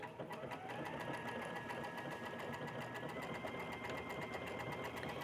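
A sewing machine runs a hem stitch over cording, a continuous fast mechanical whir with rapid regular ticking, fairly quiet and steady throughout.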